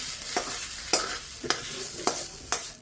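Red amaranth greens stir-fried in a pan: a steady sizzle with five sharp scraping strokes of a spatula at an even pace, close and fairly loud, no voices.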